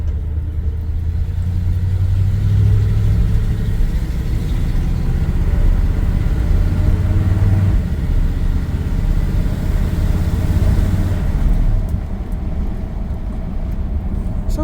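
A Chevy C10 pickup truck engine idles steadily with a deep, low rumble, close and continuous, easing slightly quieter toward the end.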